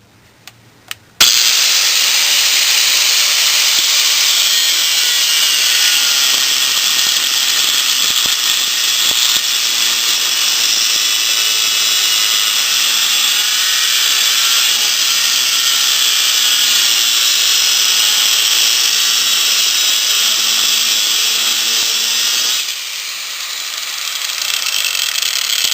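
A power saw starts abruptly and cuts through a rusty car exhaust Y-pipe with a loud, steady, high grinding whine for about twenty seconds, then eases off.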